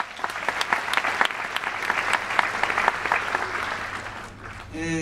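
A festival concert audience applauding, dense steady clapping that fades toward the end, followed by a voice starting to speak.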